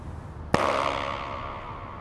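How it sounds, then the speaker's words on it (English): A single sharp tap of a shoe in an echoey room, followed by a buzzing flutter echo that rings and slowly fades for over a second. "Remove one shoe. Give it a tap."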